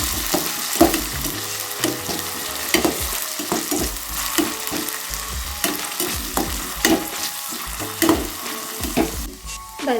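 Jackfruit seeds, greens and dried chillies sizzle and fry steadily in a pan, stirred now and then with scraping clatters, a continuous close hiss throughout with no voices.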